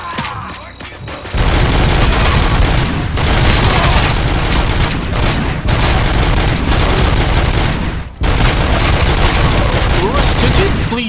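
Heavy sustained gunfire from a firefight in the video game Robocop Rogue City, loud and nearly continuous bursts with a brief lull near the start and another around eight seconds, voices mixed in beneath the shooting.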